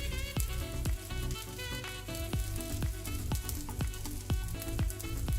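Butter sizzles and crackles steadily under a buttered ham and cheese sandwich in a medium-hot pan, with sharp little pops scattered throughout, close up and fairly quiet.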